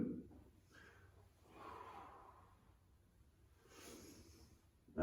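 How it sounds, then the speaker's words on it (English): A person breathing heavily during a stretching and mobility workout for golfers, with several slow, audible inhales and exhales that are faint and close, and no talking. "You should hear me breathing."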